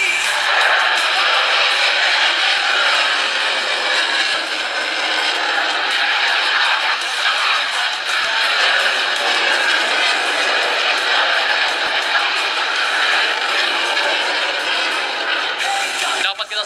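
A loud, constant F-16 Fighting Falcon jet roar fills the whole stretch during a military flyover, a broad steady rush of engine noise that barely varies in level.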